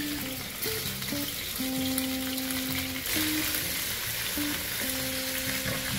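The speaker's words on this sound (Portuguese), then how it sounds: "Acrescente 200 ml de um bom vinho tinto e deixe cozinhar até que ele reduza" Red wine (200 ml) simmers and reduces in a pan of oxtail stew. It makes a steady, dense sizzling hiss that goes on throughout, with soft background music underneath.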